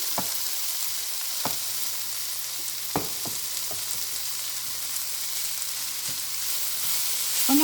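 Cooked basmati rice, boiled with salt and turmeric, stir-frying in a pan for egg fried rice: a steady close sizzle runs throughout, with several sharp scrapes and knocks of a spoon or spatula as it is tossed, and no talk.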